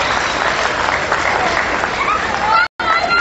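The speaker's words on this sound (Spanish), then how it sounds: "Un aplauso a nuestro presidente municipal." Steady, dense applause from a crowd at a PRI campaign closing rally in Nextlalpan, greeting the municipal president, sustained throughout with a brief cut near the end.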